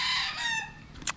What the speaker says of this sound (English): got bloody noisy, loads of chickens in the Philippines